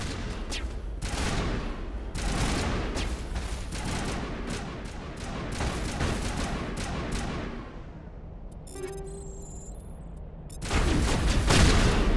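Rapid gunfire rings out against metal in the Mass Effect video game. Dense, loud bursts of shots run almost continuously, briefly thin out with a few electronic tones, then a heavy volley resumes at the end.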